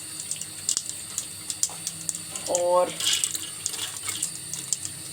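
Washed lentils are poured into a pot of water with tender cooked meat for dal gosht, making a brief splashing pour in a home kitchen while a person talks.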